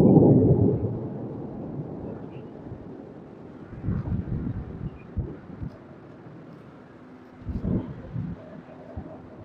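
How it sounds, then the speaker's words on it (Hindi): Thunder rumbling during a heavy rainstorm at Tharparkar, a burst at the start followed by two later low rolling rumbles, with wind buffeting the microphone throughout. "बहरहाल बिजलियाँ अभी कड़कना शुरू हुई हैं।"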